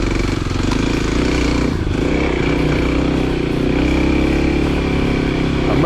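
A dual sport motorcycle riding on pavement gives a steady, close engine drone with rough road and wind noise that continues unbroken throughout.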